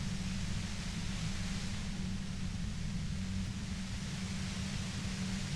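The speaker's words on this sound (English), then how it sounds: "You hear through the white noise." Steady white noise from the Disco Elysium video game, a constant faint hiss spread evenly with a low droning hum underneath, unchanging throughout with no voices.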